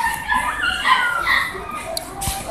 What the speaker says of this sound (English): a dog shopping market.